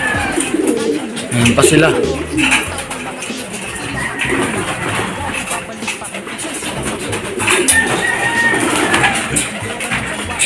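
Breeder racing pigeons coo steadily in a loft, low rolling calls repeating throughout, heard alongside someone talking nearby.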